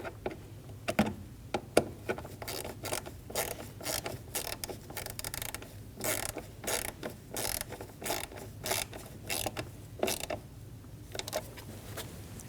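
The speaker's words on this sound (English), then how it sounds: "Get the screws started on either side. Snug the bolts down." Bolts are snugged down with a ratchet while a downstream O2 sensor goes into a 2012–2022 Volkswagen Passat 2.5L, giving a steady run of quick, close mechanical clicks and creaks over roughly twelve seconds.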